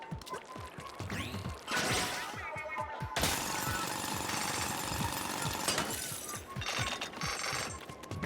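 A continuous mechanical drilling roar runs through the Splatoon game scene, loud and grinding, with sharp rattles and impact bursts rising and falling throughout.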